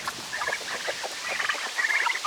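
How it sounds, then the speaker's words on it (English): Chickens and big roosters cluck and chatter inside a coop, a dense overlapping flock of calls that stays fairly loud and continuous throughout, with no talk. "Not too sure about these big roosters."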